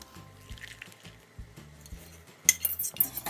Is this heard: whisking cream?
yes